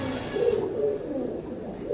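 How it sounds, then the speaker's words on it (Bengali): A pair of Jacobin pigeons coos softly and steadily up close, a low, murmuring purr that runs through the whole moment. "প্রথমে এক জোড়া জ্যাকোবিন দিয়ে শুরু ভিডিওটা"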